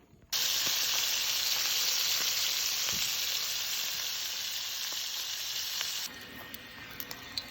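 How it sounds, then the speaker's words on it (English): Pork ribs sizzle steadily as they brown in a hot pot, a loud continuous frying hiss that drops slightly near the end, with faint clinks of a utensil. "I'm going to get these ribs browned"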